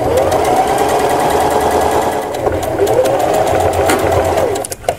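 A sewing machine stitches a skirt hem, its fast steady whirring and rapid needle clatter running loud and close almost continuously before stopping abruptly near the end.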